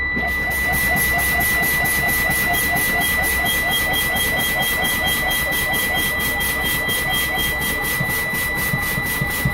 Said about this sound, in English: Continue to pump brakes between 20 and 45 psi.